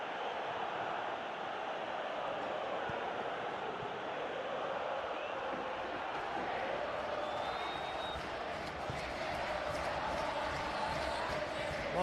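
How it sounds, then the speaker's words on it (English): Stadium crowd in the PES 21 football video game during a River vs Belgrano match: a steady, distant wall of cheering and murmur that stays fairly faint and even throughout. "Well, the crowd clearly like what they just saw."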